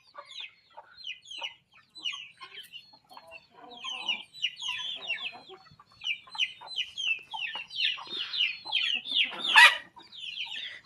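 Free-range chickens cluck busily as they come for scattered grain feed, a dense run of short calls with a louder flurry near the end and no talking.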